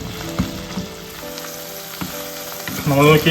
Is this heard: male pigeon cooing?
no